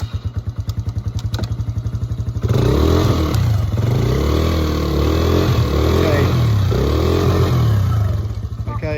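A Polaris quad bike stuck in place, its engine revving hard and steadily at full power after a lower idling putter, loud and close throughout.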